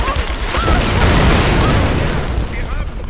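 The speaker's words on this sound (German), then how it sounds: "Alles explodiert auf einmal." Loud, rumbling explosions in the video game Tomb Raider, a continuous dense roar of blasts and debris with crackling bursts layered throughout.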